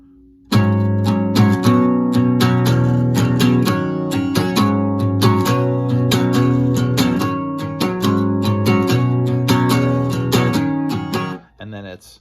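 An electric guitar tuned to drop D plays the main riff of a song, built on barre chords, loud and dense with steady rhythmic chugging throughout before cutting off abruptly near the end.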